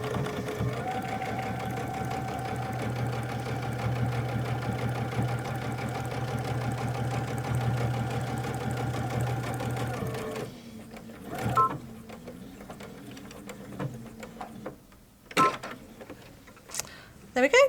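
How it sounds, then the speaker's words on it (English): Brother Innov-is XV sewing machine top-stitching straight down the middle of felt, a steady close mechanical hum for about ten seconds, then it stops and brief handling clicks and rustles follow. "I'm going to top stitch down the middle of the felt"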